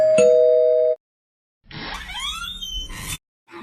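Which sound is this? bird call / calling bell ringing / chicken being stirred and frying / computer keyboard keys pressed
calling bell ringing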